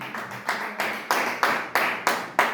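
Church congregation applauding during a Sunday worship service, a rhythmic, unison clapping of a crowd, about eight strong claps at a steady beat, fairly close and loud.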